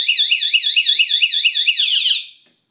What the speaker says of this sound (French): Oups, voilà l'alarme.